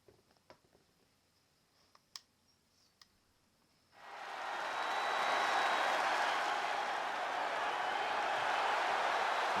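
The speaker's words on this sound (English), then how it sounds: "The crowd goes wild." Light clicks and taps give way to a sudden, sustained crowd roar from the WWE 2K20 wrestling video game that holds steady and loud to the end.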